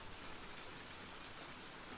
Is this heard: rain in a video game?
yes